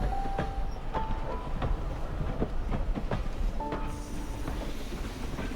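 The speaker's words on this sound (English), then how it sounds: "Anytime we have a train like this out on the railroad" A federally qualified train engine runs on a railroad, giving a steady loud rumble with rhythmic clicks and brief tonal squeals or horn-like tones throughout.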